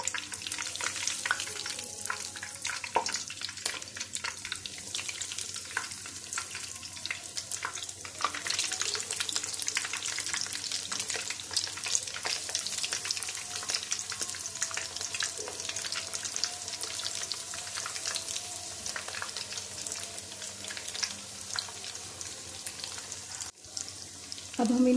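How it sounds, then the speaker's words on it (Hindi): Potato cheese nuggets fry in hot oil with a dense, continuous sizzle and crackle that stays close and loud the whole time, broken by an occasional faint clink. "अब हम इनको गोल्डन ब्राउन होने तक फ्राई करेंगे।"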